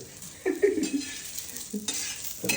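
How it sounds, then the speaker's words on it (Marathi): Onion dry-roasting in a pan on a gas stove while chutney ingredients are prepared, giving a soft sizzle with a few stirring scrapes and clinks of the pan, close and fairly quiet, with no talking. "कांदा भाजून चालू आहे"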